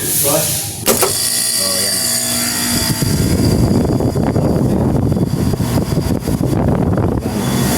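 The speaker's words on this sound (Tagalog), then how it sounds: "Gana na rin yung compressor." A floor-mounted air conditioner's compressor starts and runs during a home or hotel service call, giving a loud, steady mechanical drone with a rough, breathy texture after a few sharp clicks.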